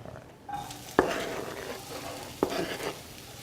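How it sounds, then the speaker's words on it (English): Onions and peppers hit a hot pan and start to sauté with a rising sizzle, punctuated by two sharp clanks of a utensil against the pan. "we're going to saute this for a couple of minutes"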